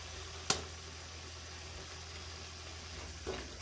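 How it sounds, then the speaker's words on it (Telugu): Ginger garlic paste fries in oil over a tomato onion paste for a bachelor-style fish curry, a quiet, even sizzle with one sharp knock near the start and a louder clatter at the end. "టమాటా ఆనియన్ పేస్టు పచ్చి వాసన పోయి ఇలా ఆయిల్ తేలినప్పుడు అల్లం వెల్లుల్లి పేస్ట్ వేసుకుందాం."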